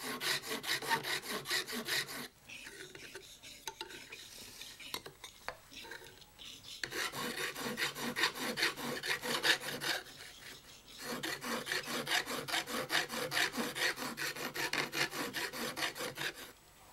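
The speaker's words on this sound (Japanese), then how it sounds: "ヤスリで磨きます。" A rasp smooths wood for a traditional Edo mikoshi portable shrine, in steady back-and-forth scraping strokes, close and loud. There are short pauses near 2 and 6 seconds and again near 11 seconds, with no talking.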